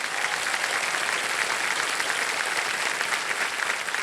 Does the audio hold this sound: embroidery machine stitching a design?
no